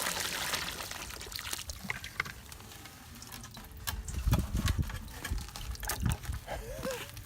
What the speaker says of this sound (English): we're gonna add some more sap.